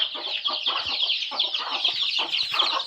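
Desi hens cluck steadily among a brood of week-old chicks, with rapid high peeping from many chicks layered over repeated low clucks, close and continuous.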